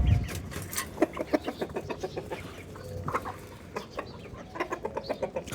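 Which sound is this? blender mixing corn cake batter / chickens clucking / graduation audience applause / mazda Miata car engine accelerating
chickens clucking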